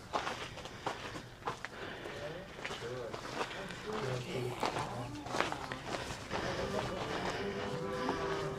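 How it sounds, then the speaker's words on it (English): Sheep bleat faintly in the background while people talk and footsteps shuffle nearby. "Oh, I can hear the sheep."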